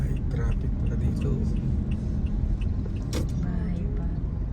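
Road traffic in Nueva Ecija in the Philippines, with a steady low rumble of engines from passing vehicles close by, heard from inside a vehicle, and voices talking over it.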